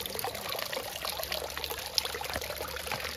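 Water flows at a resort in Pasighat, Arunachal Pradesh, a faint steady trickling and pouring that continues without a break.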